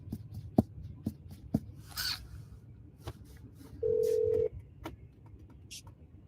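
A phone call sounds a single steady electronic ringing tone lasting about half a second, surrounded by scattered soft clicks and handling noises nearby.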